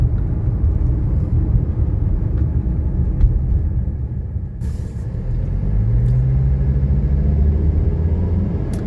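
A 1985 Mercedes 300D diesel with 18,000 miles, accelerating on the road, heard from inside as a loud low rumble with a rising engine drone building in pitch over the second half.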